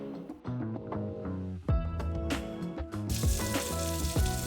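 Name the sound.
steaks sizzling in a pan with butter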